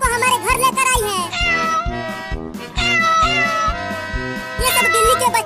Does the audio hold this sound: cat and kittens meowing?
yes